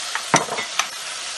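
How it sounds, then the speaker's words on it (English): Mushrooms frying with ginger, garlic and ketchup in a pan as they are stirred, a short burst of sizzling hiss with two or three quick scraping strokes, close and steady with no voice. "For the mushrooms, I have the ginger, garlic, and ketchup. I'm going to give that a stir."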